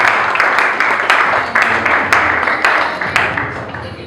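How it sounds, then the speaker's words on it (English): An audience at a Nigerian community celebration applauds the chairman of the occasion, loud close clapping with crisp individual claps and a few pulsing swells that gradually thin toward the end. "Round of applause for him."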